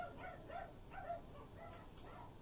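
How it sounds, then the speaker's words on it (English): Neighbor dogs bark in the distance in short, repeated bursts, faint and muffled as if heard from outdoors, over a steady background hum. "those are the neighbor dogs barking outside"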